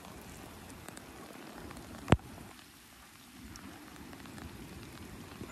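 Steady rain falls outdoors as a constant soft hiss of drops, with a single sharp knock partway through and no talking.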